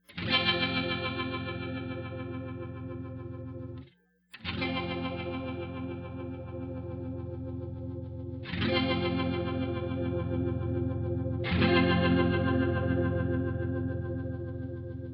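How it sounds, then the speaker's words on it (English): An electric guitar played through a Mobius modulation pedal's rotary effect with preamp drive engaged gives sustained, swirling chords, each struck chord ringing out with a gritty, driven tone; there is a brief gap before the chords resume. "the Mobius is the clear winner in the rotary effect"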